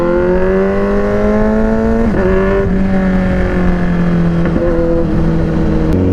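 Loud car exhaust revving and shifting through gears inside a tunnel, the rising whine echoing with a booming, enclosed reverberation, no talking.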